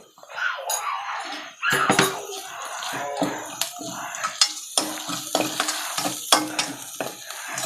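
Ginger garlic paste frying in a pan, a crackling sizzle broken up by clinks and scrapes of a spoon against the pan, fairly close, with no talking.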